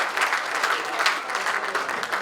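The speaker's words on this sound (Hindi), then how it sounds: "तो एक बार जोरदार ताली आप सबकी मिले।" Dense, sustained applause from a crowd at a Hindi poetry gathering, steady and moderately loud for the whole stretch with no voice on top.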